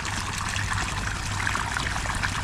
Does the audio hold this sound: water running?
yes